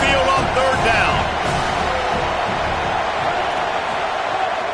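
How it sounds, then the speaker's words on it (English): Home football crowd roaring as the defense tries to get off the field on third down, a dense sustained wall of cheering and whooping with announcer-style talk over it. "Here comes this home crowd as the defense tries to get off the field on third down."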